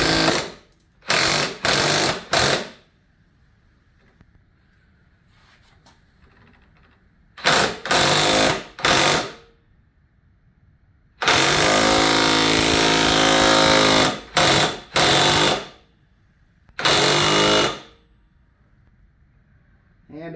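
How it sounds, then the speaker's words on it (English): An impact wrench fires in short, loud hammering bursts while tightening a lower ball joint on a Dana 30 front axle, with one long sustained rattling run in the middle and brief pauses between bursts. "I'm going to use an impact."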